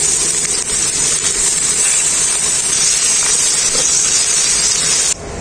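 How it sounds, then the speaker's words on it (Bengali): Chopped onion fries in hot oil left from frying fish, with bay leaves, whole cumin and nigella seeds, giving a steady, loud, close sizzling hiss that runs unbroken for several seconds. "পেঁয়াজটা খুব ভালো করে ভাজা হয়ে গেছে।"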